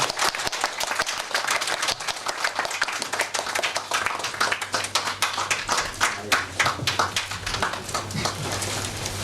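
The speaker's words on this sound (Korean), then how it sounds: "박수로 축하하겠습니다" A congregation applauds during a church founding service and ordination ceremony at Sancheong Pyeongchon Church. Dense, fairly close hand clapping fades and picks up again over several seconds, with voices audible beneath it.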